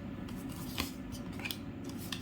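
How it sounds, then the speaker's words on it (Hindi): Tarot cards being shuffled, with a few soft papery riffles and slides over steady low room hum, close and quiet, no voices. "जब तक मैं कार्ड शफल कर रही हूँ"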